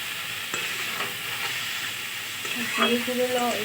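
Spice paste with chilli powder frying in a pan, a steady close sizzle with occasional stirring scrapes and a faint tonal hum near the end.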